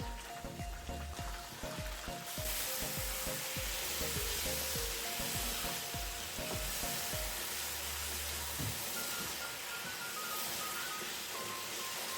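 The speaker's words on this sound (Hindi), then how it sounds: "चिकन और आलू भून रहे हैं" Chicken and potatoes fry in a pan with a loud, dense, continuous sizzle, punctuated early on by clattering stirs and scrapes before settling into a steady hiss.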